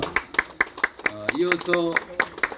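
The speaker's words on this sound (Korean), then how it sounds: "다시 한번 박수 부탁드립니다" An audience claps at a memorial ceremony for Yeo Un-hyeong after a soprano and piano song, with brisk, steady claps continuing while someone speaks over them.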